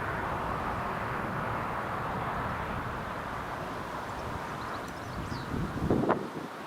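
Chilly morning breeze buffets an outdoor microphone beside an airport runway in July, a steady loud low rumble of wind noise throughout, with a stronger gust near the end.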